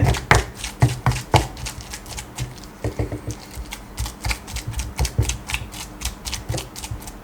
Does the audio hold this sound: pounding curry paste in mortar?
yes